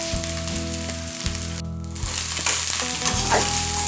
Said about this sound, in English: Just stirring this, let the onions soften.